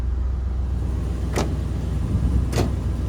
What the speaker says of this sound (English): You go through the windows, the AC, the power door locks.